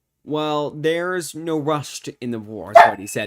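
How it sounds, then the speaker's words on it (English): A single short dog bark sounds in the background partway through a live news broadcast, partly masked by a presenter's steady speech. "And I apologize about that dog bark there."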